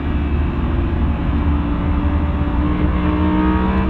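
An Audi R8 lapping a race track hard gives a loud, steady engine roar that stays dense and close throughout, with no talk.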